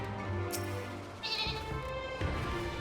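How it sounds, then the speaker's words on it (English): Sheep bleating in the game Final Fantasy XIV, several short wavering bleats in sequence, fairly clear against a soft game music background. "That was a different sheep noise."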